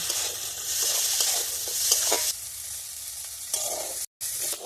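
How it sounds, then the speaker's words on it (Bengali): Food fries in ghee with salt and turmeric, a steady crackling sizzle broken by stirring scrapes, with a brief silent cut near the end. "এর মধ্যে অল্প লবণ দিয়ে দিলাম, অল্প হলুদ দিয়ে এবার আমি এটা ভালো করে ভেজে নেব।"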